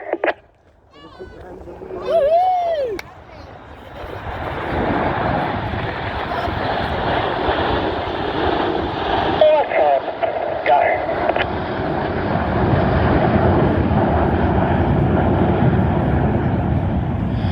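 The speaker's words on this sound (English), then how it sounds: "get your cameras ready for the colourful and the noisy Big Vixen" Vixen jet aircraft making a loud, noisy pass at an air display, a broad engine roar building after a couple of seconds and holding steady to the end, with brief talk near the start.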